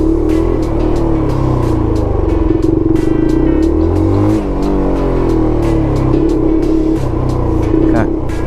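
QJMotor Race 250 motorcycle pulling away gently in first gear, a steady close engine drone with light throttle and a slight rise in pitch, running continuously under someone speaking.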